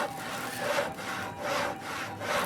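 A hand saw cutting a large hole through wood, with steady rhythmic rasping strokes of roughly even length, close and fairly loud, with no talking.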